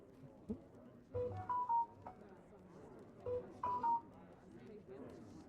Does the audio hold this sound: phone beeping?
yes